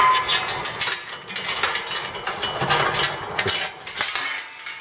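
Keys and a metal padlock clink and jangle over and over at an allotment gate as it is unlocked, heard close with a sharp metallic rattle and small scraping knocks.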